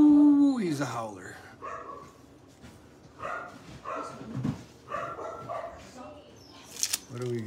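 A young puppy, one of a litter, lets out a rising howl and then a run of whimpering, yipping howls close by, with a person talking over the later calls.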